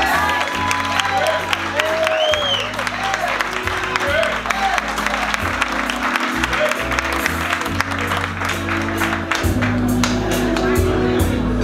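Audience applause and cheering at a live revue show at the Cutting Room in New York City, sustained and dense for the whole stretch over a low band-heavy musical bed, with crowd noise mixed in.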